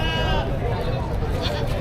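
Several goat bleats recur over a busy, noisy livestock market with voices nearby, the calls blending into steady crowd chatter.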